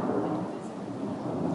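Low, continuous rumble of thunder during a thunderstorm, a dense rolling roar that holds steady for the whole short stretch.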